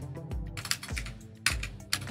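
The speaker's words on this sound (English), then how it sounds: "this is that messed up keyboard" Typing on a faulty old computer keyboard running a custom Chinese MS-DOS 7.1 setup: close, uneven clacking keystrokes with several sharp louder presses, heard alone without talk.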